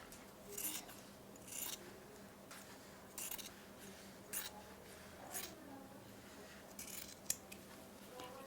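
Scissors snip at the bottom edge of a layered fabric face-mask piece with a filter layer, giving about eight crisp, quiet cuts spaced roughly a second apart.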